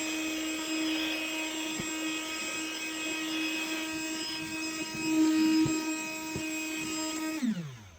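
A Ryobi R18MI cordless inflator blows air with a steady motor whine and strong harmonic hum, running continuously before spinning down abruptly near the end.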